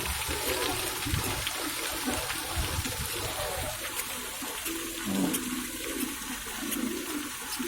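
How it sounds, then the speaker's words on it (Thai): Continuous splashing flow of a stone waterfall at a flower-field attraction, fairly close and steady, with faint background sounds over it. "น้ำตกหิน"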